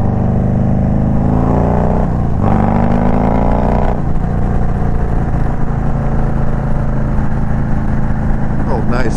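A blacked-out Ford F-350 pickup truck rolls past with a steady engine rumble that swells and fades, heard over the constant drone of a Road Glide motorcycle ride and wind.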